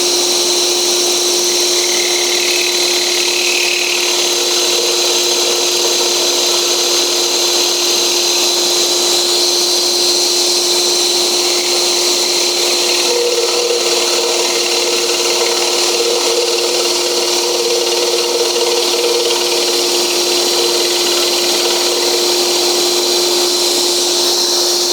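A blower running in a woodworking shop, a loud, steady whooshing drone with a constant tonal hum that goes on unbroken, no voices.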